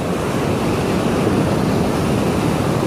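Sea waves washing onto the shore beside the water, a steady broadband surf roar that stays loud and continuous throughout, with some wind noise mixed in and no voices.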